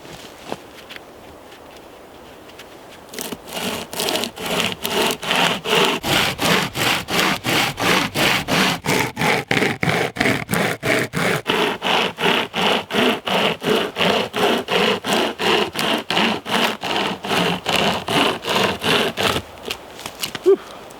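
Handheld folding chain saw cutting through wood in a rough, coarse cut, a rapid, even run of loud rasping strokes that keeps up for about sixteen seconds after a quiet start and then stops.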